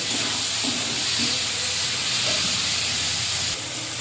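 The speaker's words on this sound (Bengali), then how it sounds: "চিকেনটা ভালো করে কষে নেব" Chicken sautéing with salt in a pan for a Bengali chicken and small-potato curry gives off a steady, loud, hissing sizzle throughout, with a few soft low stirring knocks beneath and no talking.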